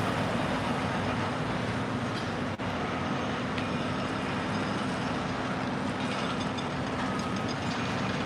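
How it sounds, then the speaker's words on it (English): A continuous low mechanical rumble and rattle of jackhammering from some distance near the SpaceX Starbase launch site in Boca Chica, Texas, steady and unbroken, with no voices. "Can you hear any of that jackhammering in the background?"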